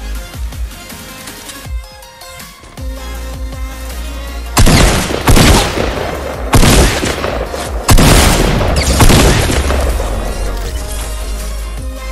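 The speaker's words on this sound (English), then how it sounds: "heard shotgun" Fortnite Battle Royale shotgun blasts in close combat, several loud sharp booms spaced a second or two apart over continuous game sounds and rumbling, with no talk.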